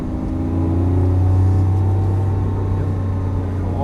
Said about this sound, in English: Go ahead and accelerate down the hill.